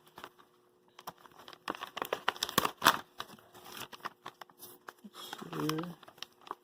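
Packaging for a Wifitrax WFD-31 for an NCE Powercab being unwrapped, with close, irregular crinkling and tearing bursts of plastic and paper, and a short spoken remark near the end.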